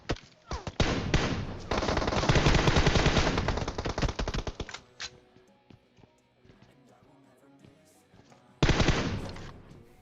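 Automatic weapon sprays rapid bursts in a PUBG Mobile match, with a long dense volley of gunfire, scattered lighter shots, then another burst at the end, all loud and close.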